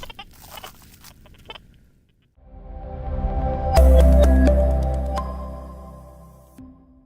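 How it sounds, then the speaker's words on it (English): An XP DEUS II metal detector picks up EMI interference beneath power lines: scattered erratic pips give way to a swelling, buzzing tonal drone with sharp chirps before it fades, no voices present. "the machine's been really quite lively, loads of pips and squeaks"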